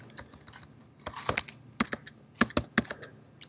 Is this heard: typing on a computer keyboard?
yes